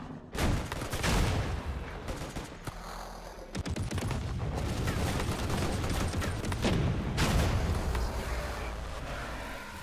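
Rapid video-game gunfire rattles in dense volleys with sharp individual cracks and booms over a continuous noisy backdrop, loud and close throughout.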